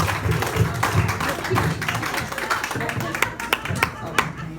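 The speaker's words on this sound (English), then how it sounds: "Another big round of applause for Ying, coming all the way over." Scattered clapping from a small audience, uneven and moderately loud, thinning out toward the end with a few isolated claps.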